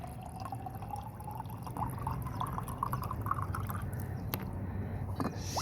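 Dirty, rusty water drains from a water heater tank during flushing, a faint steady trickle and splatter of flowing liquid with occasional drips and no talk.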